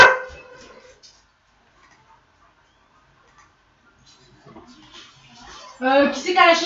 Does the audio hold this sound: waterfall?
no